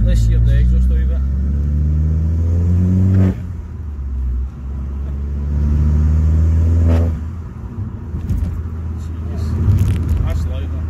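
A Vauxhall Corsa VXR Nurburgring with a stage one exhaust revs hard in two loud, sustained pulls with a drop in between, the deep exhaust note rising and falling close by, with voices over it.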